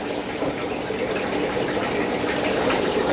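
A pump draws water out of a very dirty aquarium into a garbage can on rollers, giving a steady, close gushing and sloshing of running water that continues without break.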